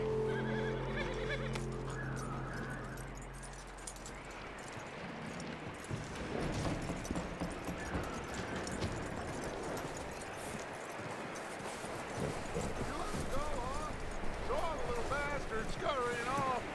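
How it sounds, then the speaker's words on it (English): A horse in Red Dead Redemption 2 whinnies loudly at the start, then hooves clip-clop steadily on the ground over ambient game sounds and background music, with brief spoken dialogue. "That looks like a decent horse."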